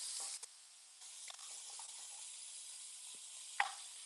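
Thick-cut diced bacon sizzles softly in a pan with a steady hiss, while a flat wooden spatula adds a few faint scrapes and a sharper clack near the end.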